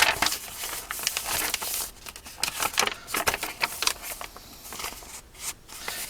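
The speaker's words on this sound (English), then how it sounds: "Torn paper." Paper being torn away from an envelope while assembling traveler's journals, heard as a run of close, crisp ripping and crinkling bursts with short pauses between them.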